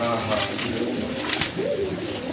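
Domestic pigeons coo in a short, close burst, soft throaty calls over a background of voices and general noise.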